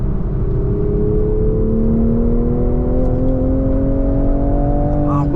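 A 2023 Toyota GR Supra 3.0 with manual gearbox drives on a track, its engine droning steadily with a tone that rises slowly under sustained load, heard from inside the car without talk.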